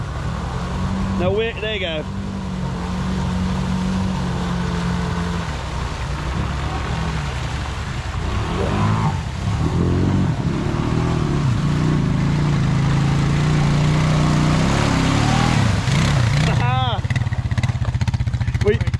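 A Honda Rancher 350 ATV engine runs steadily and rises as the throttle is worked, a droning motor sound close by, while people talk over it.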